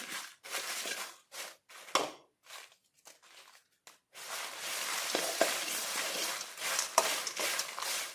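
Dried red chillies roast in a pan for homemade sambar powder, giving dry crunchy rustles and light crackling scrapes, first in short bursts with pauses, then a steadier close-up stir toward the end.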